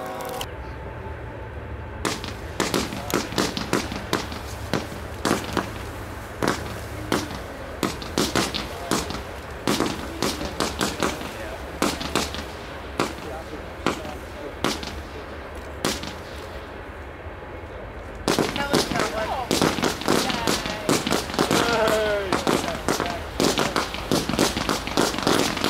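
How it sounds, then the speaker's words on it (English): A small Canon brand Funky Fish cake firework fires a long, rapid string of sharp crackling shots and pops, loud and fairly close, with a denser, brighter burst of crackles near the end. "Funky fish cake from Canon brand fireworks."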